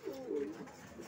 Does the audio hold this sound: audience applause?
no